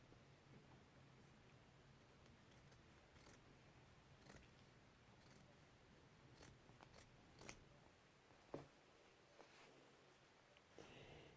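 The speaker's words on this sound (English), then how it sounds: "you could just take your scissors and cut it if you wish" Quiet, sparse snips of scissors cutting quilt fabric, scattered single cuts with pauses between, close and soft in an otherwise hushed space.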